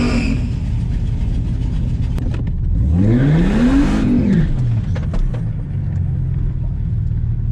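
Mercedes SLK32 AMG at a drag strip on a hot day, engine revving up in a rising, then falling, sweep over about two seconds, loud and close against a constant engine drone.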